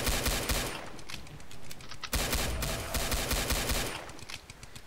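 Sustained rapid gunfire in the Roblox game Survive and Kill the Killers, a dense continuous automatic burst with a brief break near the middle, loud and close with no voices.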